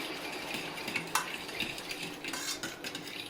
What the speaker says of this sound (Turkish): Şimdi iyice karıştırıyorum.